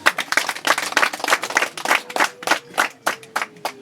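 Guests at a wedding celebration clap in bursts of uneven rhythm, fairly close, with a faint tonal hum underneath and no talking.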